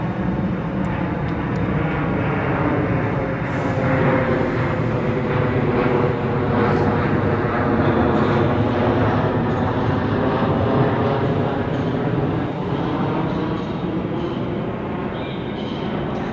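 An aeroplane passes overhead near Stockport railway station on the West Coast Main Line, a steady, loud, broad roar that fills the whole stretch without a break.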